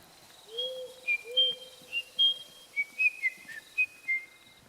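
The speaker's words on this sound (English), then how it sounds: "Hamlet whistles a carefree tune" Someone whistles a light, carefree tune outdoors in the woods, a string of short clear notes and slides in an uneven, lilting rhythm, moderately close over faint background ambience.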